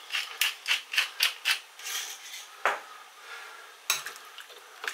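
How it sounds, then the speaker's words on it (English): A spoon stirring chicken and mushroom broth with bones in a pot, a quick run of five rhythmic scraping clinks followed by a few slower, isolated knocks against the pot, close and clear. "stir just to get the salt distributed"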